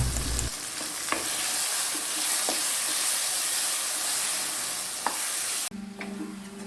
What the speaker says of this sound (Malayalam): കുറച്ചും കൂടെ എണ്ണയൊക്കെ ഒഴിച്ചു കൊടുത്ത് നന്നായിട്ടൊന്ന് വഴറ്റിയെടുക്കാം